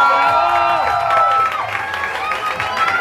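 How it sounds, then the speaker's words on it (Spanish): Audience at a singing-duel competition show claps and cheers for the winner, a loud crowd roar with shouts over a steady wash of applause throughout. "Un aplauso fuerte a la ganadora de este duelo, es Adela."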